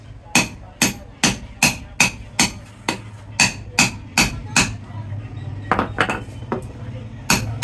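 Sharp metallic hammer blows drive a bearing into a pedestal fan motor in a steady series, about a dozen close, loud taps with brief pauses, ending in a quicker cluster of hits.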